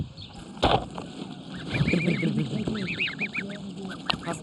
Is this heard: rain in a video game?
no